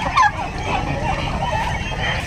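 Turkeys of an upgraded line, over four months old, call on a turkey farm in a steady busy fowl chorus, with one louder call near the start over a constant low background rumble.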